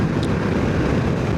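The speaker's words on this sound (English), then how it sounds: "A little bit windy again" Wind on the Isle of Skye in Scotland, a steady roaring rumble buffeting the microphone close up for the whole moment, with no voices.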